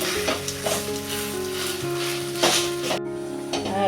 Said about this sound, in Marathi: मी कांदा टाकलेला आहे आता आपण ना याला परतूया